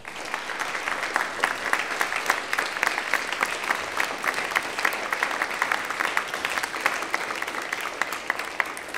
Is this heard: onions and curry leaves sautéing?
no